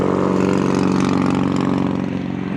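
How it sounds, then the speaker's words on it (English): Big, loud motorcycle passing by on a street in Iowa City, a thick rumbling engine drone that stays strong and fades slightly toward the end, with no voices over it. "big old loud motorcycle going by"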